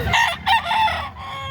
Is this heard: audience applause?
no